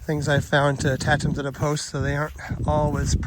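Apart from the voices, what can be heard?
No everyday noises stand out.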